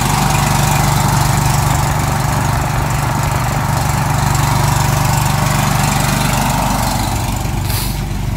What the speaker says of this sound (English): Here we are, the pump is running. It's running pretty smooth.